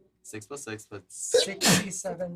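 A single sharp sneeze bursts out mid-conversation during a tabletop role-playing game session, sandwiched between people talking about dice rolls and damage.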